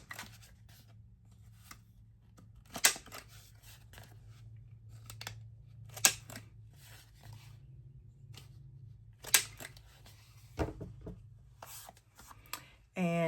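Corner rounding punch clipping the corners of paper journal cards, several sharp clicks spaced a few seconds apart over a low hum, with soft rustling between them.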